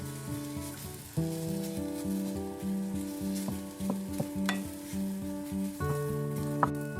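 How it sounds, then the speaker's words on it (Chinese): Washed orange peels stir-fried dry in a heated clay pot with a spatula, giving a steady close sizzle with scraping strokes and tonal clinks throughout, no voices. "把清洗干净的橘皮倒入砂锅中，用铲子把橘皮上面的水分全部给它炒干"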